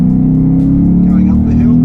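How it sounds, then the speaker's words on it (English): A 2017 Ford Mustang GT engine with manual transmission hums loudly and steadily close by, its revs building slightly after a downshift going uphill, with a voice briefly audible. "release the clutch, apply the throttle, hear the revs automatically pick up"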